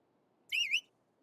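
A sharp whistle in Genshin Impact during an ambush scene in Sumeru City: one brief two-part whistle, the first note a little lower and the second slightly higher, sounding alone against quiet background.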